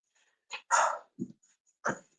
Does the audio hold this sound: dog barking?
yes